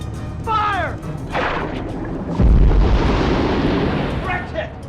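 A torpedo fires from a submarine's stern tube and explodes on a target, a heavy deep boom that swells and rumbles on for several seconds, with a shouted command and voices over it and music beneath.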